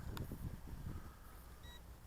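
A brief high electronic beep from an Eachine EX5 brushless GPS drone after compass calibration rotations, faint under low handling rumble and background noise, with no talking.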